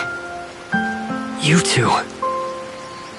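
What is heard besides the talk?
rain falling in the video game Tower of Fantasy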